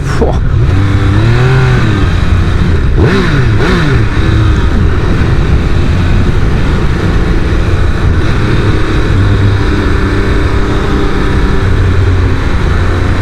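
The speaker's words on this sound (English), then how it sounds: "The induction noise is nice, and it just needs a bit more exhaust note" A Triumph Speed Triple 1200 RR sport motorcycle engine revs hard and steadily, induction noise prominent, pitch rising and falling through several sharp throttle blips, loud and close throughout with no talking.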